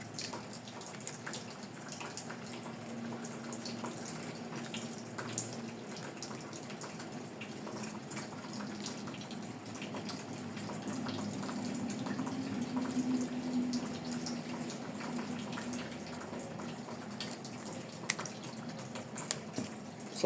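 Water under pressure drips and trickles from a washing machine hose into a catch container, a faint continuous spattering hiss with a low tonal hum, steady for twenty seconds with a few louder taps near the end.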